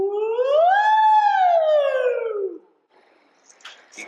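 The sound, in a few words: voice imitating a siren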